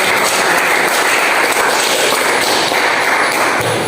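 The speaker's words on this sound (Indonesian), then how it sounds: "Mari kita beri tepuk tangan." Classroom applause during a school lesson, a dense burst of many hands clapping steadily at close range for a few seconds, with no talking over it.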